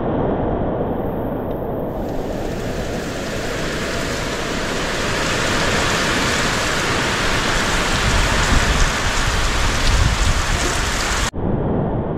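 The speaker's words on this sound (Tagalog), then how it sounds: "pagbuhos ng malakas na ulan na may kasamang hangin" Heavy rain pours steadily during a strong, frightening storm with gusting wind, a dense continuous roar that stays loud throughout and swells slightly toward the end before cutting off abruptly.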